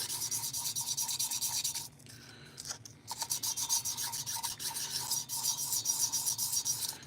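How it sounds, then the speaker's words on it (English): New sandpaper rubs over an engine cylinder in steady strokes, a close, fairly quiet scratchy hiss that breaks off for about a second before resuming in rapid rhythmic passes. "now I'm gonna hit it with some new sandpaper"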